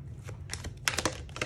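A deck of tarot cards is shuffled in quick bursts of soft papery riffling and slaps, close by and brief, with no talking.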